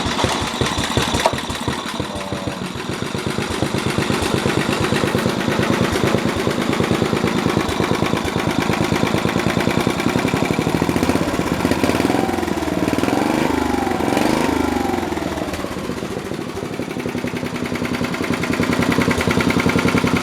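An old Snapper Comet 3081 riding mower with its original Briggs engine and iron-gear starter fires up and runs, a loud, steady, rapid putter that holds throughout at close range.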